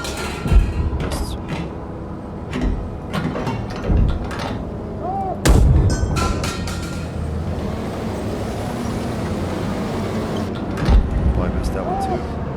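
Tank cannons firing in the combat game GHPC, several heavy booms spaced irregularly over continuous engine rumble and battlefield noise, with a voice talking throughout.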